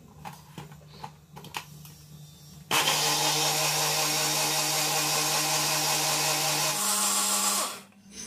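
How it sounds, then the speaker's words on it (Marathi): A kitchen mixer grinder blends a buttermilk digestive drink with chilled water, starting abruptly as a loud steady whine with a constant hum, running about four seconds, shifting pitch briefly, then cutting off; faint clatter comes before it. "झाकण बंद करून मिक्सरचे भांडे मशीनवर चढवा व परत मिक्सर चालू करा"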